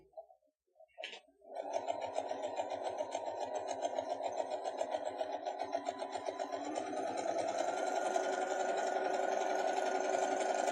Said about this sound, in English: So let's go ahead and sew this 1/4 inch seam.